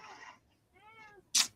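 A domestic cat meows with clear harmonic cries, the first drawn out and the second rising, then ends in a short sharp noisy burst. It sounds close and moderately loud, with no talking.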